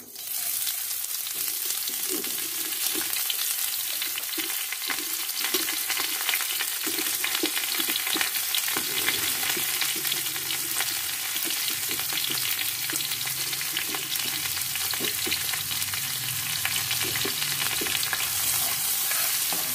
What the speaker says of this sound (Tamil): இப்போ நான் வந்துட்டு வெங்காயம் போடுறேன்.